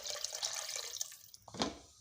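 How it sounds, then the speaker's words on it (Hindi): Water splashes and trickles into a pressure cooker holding whitened chicken pieces for noodle soup, a brief close pour with a sharper splash near the end. "अब हम इसमें 1 लीटर पानी डाल लेंगे। पानी डालने लगे हैं।"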